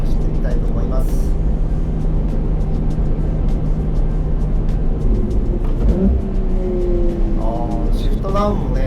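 Ferrari 296 GTS driving in race mode, engine droning steadily under continuous talk, with rising revs and shifts toward the end.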